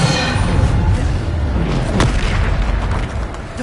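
A Bombarda spell blast in Hogwarts Legacy on PS5, a loud, sustained booming rumble with a sharper burst near the middle, dense and continuous with no talk.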